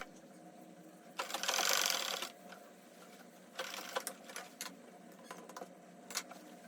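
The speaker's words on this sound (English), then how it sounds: "this is me on the sewing machine" A sewing machine stitches bias tape along a fabric armhole, running in a fairly loud burst of about a second, pausing, then running again in several shorter, choppy bursts close to the listener.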